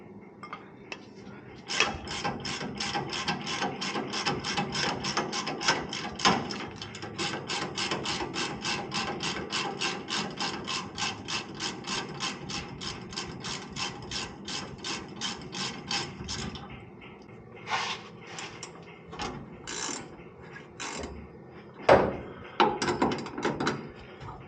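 A ratchet wrench clicks in long rapid bursts while shock absorbers are removed from a 1954 Chevy 3100 truck, close by, followed by scattered metallic knocks and clunks.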